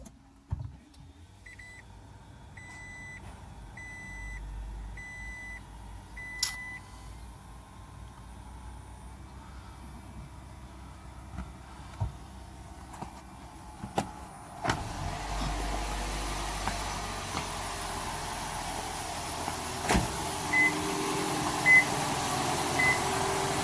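A second-generation Toyota Prius starting up, with a series of short electronic beeps and chimes, then a quiet hum and faint clicks as the hybrid system comes on, with no engine roar.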